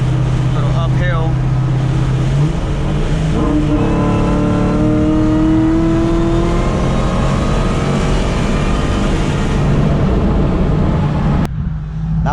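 A 2003 Mustang Cobra pulls hard uphill, its engine roaring loudly while a rising high whine climbs and falls across several gear pulls, with a short break near the end.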